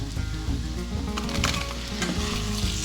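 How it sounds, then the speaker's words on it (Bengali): Potatoes go into spiced masala frying for a Dhaka-style hilsa curry, producing a close, busy sizzle with bursts of crackling and stirring scrapes over a low continuous hum. "আমি এখন এর মধ্যে আলু দিয়ে দেব।"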